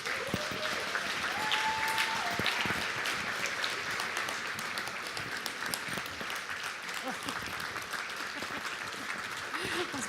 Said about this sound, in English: Please keep your applause going for Tamara Starblanket